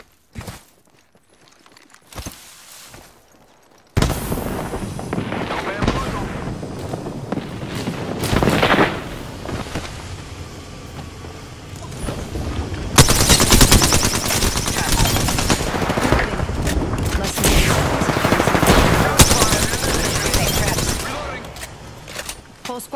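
Rapid automatic gunfire crackles through Apex Legends gameplay, a few sparse shots first, then long sustained bursts of loud fire with footsteps and a voice speaking over them.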